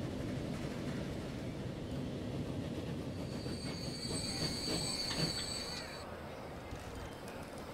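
Trains run in the Transport Fever video game on a UK and Ireland map: a continuous low rumble of rolling rail cars with a thin, high wheel squeal partway through, then a slightly quieter stretch.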